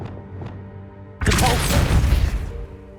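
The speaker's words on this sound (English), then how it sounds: "Depulso." The Depulso spell fires in Hogwarts Legacy, a sudden loud blast of rushing, crackling force that lasts just over a second before cutting off against quiet ambient game music.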